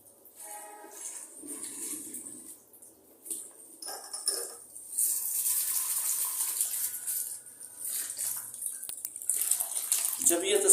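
A shampoo-washed piece is rinsed in clean water, with splashing and running water that rises and falls, growing louder and steadier in the second half.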